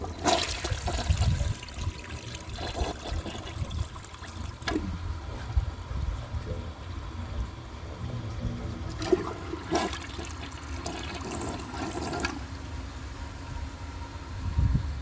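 A 1999 Porcelamex toilet flushing a dish towel, a loud close rush of water that churns and gurgles for several seconds before settling into a trickle and refilling hiss, with no one talking.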